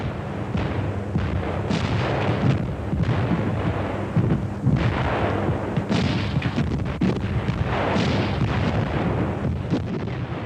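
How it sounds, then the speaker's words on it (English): A German IG-18 infantry gun fires rapidly in North Africa in 1941, heard as a continuous, heavy roar of booming blasts and rumble with no gaps, dense and loud throughout. "as can be seen in this film of these guns being used in North Africa in"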